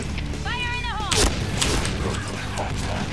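Gunfire in the online shooter Point Blank, with heavy shots and booms over a dense, noisy battle mix, a voice speaking through the middle.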